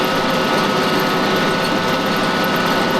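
A Japanese mini tractor, freshly rebuilt after a major engine overhaul, runs continuously while tilling a field, a steady loud buzzing drone with no pauses.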